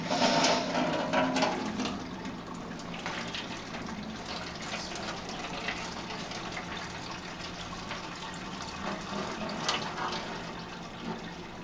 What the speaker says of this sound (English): I'm also going to have to sparge pretty slowly because I put a few too many holes in this pan